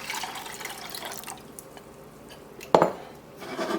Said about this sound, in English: enough water so there's about 1 inch above the top of the beans.